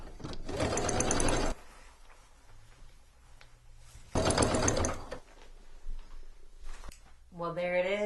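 A sewing machine stitches straps onto a reverse appliqué messenger bag in two loud, close bursts of rapid rhythmic whirring with a quiet pause between them, and a voice speaks near the end.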